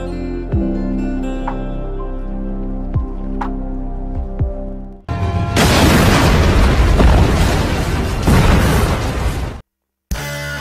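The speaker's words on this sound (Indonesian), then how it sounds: "mereka pun berhasil kabur dan pangkalan udara itu pun meledak" An air base explodes in a war film: a series of deep booms and thuds, then a loud, sustained roaring blast of noise that cuts off abruptly into silence.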